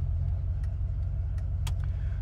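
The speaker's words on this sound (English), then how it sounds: "We just started the truck." A 1988 Chevrolet C/K 1500 regular-cab pickup engine idles steadily, a close, constant low rumble with no revving and a few faint clicks over the top.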